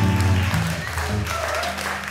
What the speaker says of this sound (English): On vous demande de faire un tonnerre d'applaudissements pour Daphné.